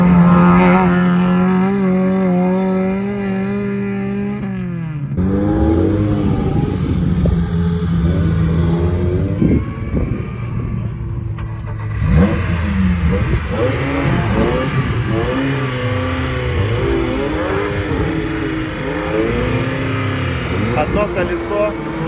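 Off-road race cars lap a trophy-sprint course near Krasnodar, engines revving and surging in rising and falling pitches under continuous commentary, with gaps between passes.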